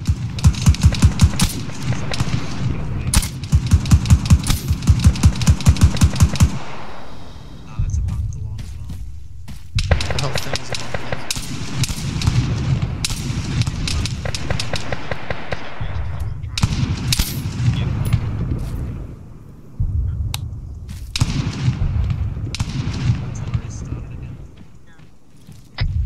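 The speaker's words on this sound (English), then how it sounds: "artillery firing" Artillery and heavy gunfire in Arma 3 boom repeatedly in loud rapid bursts and single blasts, with rattling machine-gun volleys and people talking over the radio throughout.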